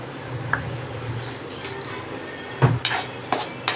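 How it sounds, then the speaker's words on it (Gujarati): Spices such as coriander-cumin powder and garam masala being stirred in a pan for chole during Navaratri cooking: a low frying hiss with a few clear scraping and clinking knocks of the spoon against the pan near the end. "બધા મસાલા મિક્સ કરી દઈએ."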